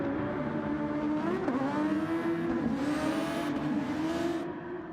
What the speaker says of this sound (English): He heads down this over a kilometre long main straight towards a deep braking into turn 1.